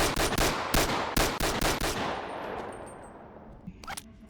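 A battle rifle firing in the VR game BONELAB: about ten sharp, loud shots in quick irregular succession, then a decaying ring-out tail followed by a few faint mechanical clicks.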